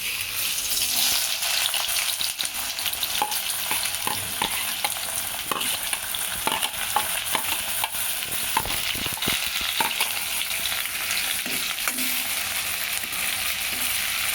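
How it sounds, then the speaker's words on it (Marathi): Onion frying in hot oil in a kadhai, with a continuous sizzle broken by repeated close scrapes and clinks of a spoon stirring, and no speech. "हे आता आपण कांदा टाकून घेऊया."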